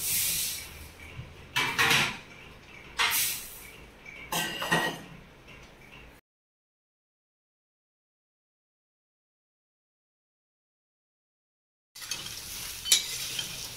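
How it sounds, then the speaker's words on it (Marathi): Garam masala spices lightly roasting in a pan, with bursts of stirring scrapes and a soft sizzle, then a long stretch of silence before the stirring resumes. "गरम मसाला आता आपण हलकासा भाजून घेतो"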